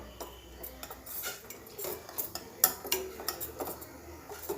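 A utensil stirring a homemade carrot face cream mixture in a pot, with light clinks and scrapes against metal repeating unevenly, close up and moderately loud.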